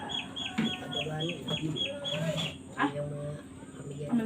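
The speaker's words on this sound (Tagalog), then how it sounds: "Ang dami na naming chicken." Chickens cluck in a series of repeated short calls at close range, with a rooster-like call near the start, amid farmyard background noise.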